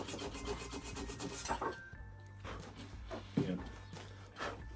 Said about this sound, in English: Sort of nice sanding.